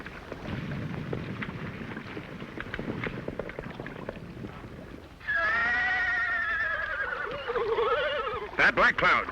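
A war horse named Black Cloud gives a loud, long whinny that rises and trails off, followed by short sharp snorts, after a stretch of rumbling background with voices.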